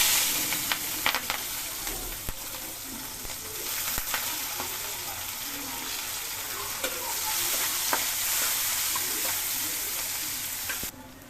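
Onions sizzling and frying steadily in a wok that already holds fried pangas fish, with scattered stirring scrapes and clinks over a continuous loud hiss and no talking.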